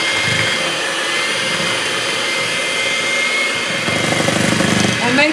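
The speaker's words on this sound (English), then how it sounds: "I start off on my mixer on low speed" An electric mixer runs on low speed, beating sour cream pound cake batter with melted butter, making a loud, steady whirring hum that grows a little rougher and rattly toward the end.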